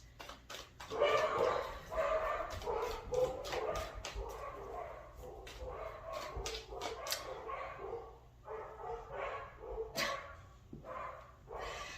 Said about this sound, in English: My dogs are getting ready to bark like crazy because someone is here again.